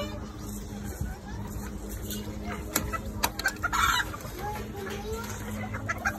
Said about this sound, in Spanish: esa gallina anda media histérica